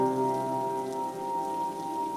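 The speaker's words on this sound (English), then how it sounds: "After walking about a mile in the pouring rain, Dr. White noticed a light in the distance behind him" Pouring rain patters steadily and evenly on a surface, a dense continuous hiss blended with a soft tonal drone, with no voices.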